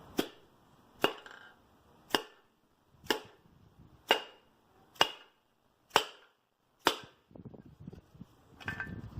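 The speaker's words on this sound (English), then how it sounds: "All you gotta do is get a hammer and we just tap on the top here." Nine sharp metallic hammer taps at a steady one-per-second rhythm, driving a piston into an engine cylinder, close and crisp, followed by faint clattering.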